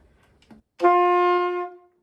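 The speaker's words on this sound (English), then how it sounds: "Now from there, you'll go down to a D, which is one more finger on the bottom." An alto saxophone holds a single D for about a second after a brief soft rustle, a clear steady reed tone that fades out at the end, with no talking.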